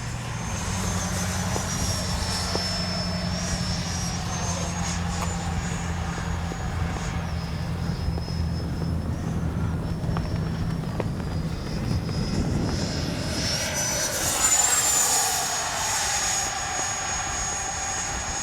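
A Freewing 90mm EDF F-22 radio-controlled jet flies overhead with a steady high-pitched ducted-fan whine that shifts in pitch as it passes, carried over constant outdoor background noise.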